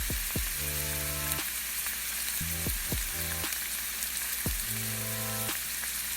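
Chopped onion hits hot oil tempered with cumin, green chillies and crushed garlic, giving a steady close sizzle and crackle alongside recurring short melodic tones.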